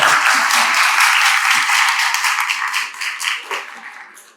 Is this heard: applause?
yes